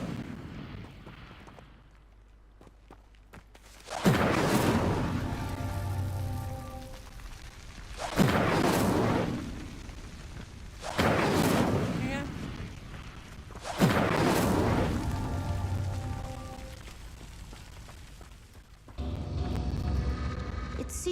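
The Incendio fire spell in Hogwarts Legacy is cast repeatedly at pyres, each cast a loud whooshing, roaring burst of flame, five of them spaced several seconds apart.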